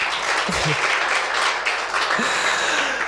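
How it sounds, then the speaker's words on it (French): Audience applause for an establishment's staff at the close of a broadcast cultural programme, a sustained wash of clapping from a sizable crowd, even and fairly loud throughout. "que je vous demande d'applaudir"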